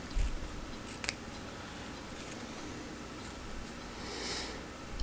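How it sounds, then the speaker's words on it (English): Scissors cut quilt block fabric along a marked line, with soft, close snips and rustles of cloth at moderate volume and a few sharper clicks from the blades, with no talking. "And you just go around and cut right on your line."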